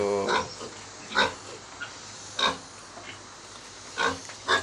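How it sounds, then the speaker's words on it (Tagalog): Piglets on a farm giving repeated short grunts and squeals, several bursts spaced about a second apart, close and clear with faint background noise. "ang ganda ng mga biik"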